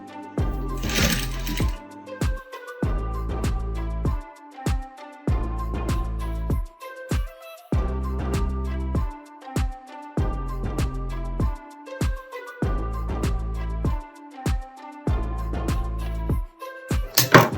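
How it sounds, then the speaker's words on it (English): A sewing machine stitches a fabric drape down onto a skirt in repeated bursts of fast, close mechanical whirring, each run lasting about a second or two, separated by brief pauses. "I'm just going to go ahead and sew my drape down."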